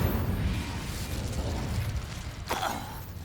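In the video game Hogwarts Legacy, an Incendio fire spell goes off as a sharp burst, heard through a dense, roaring backdrop of game noise.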